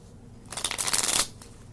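A small deck of cards is riffle-shuffled once, a quick, close, crisp burst of flapping that lasts about a second.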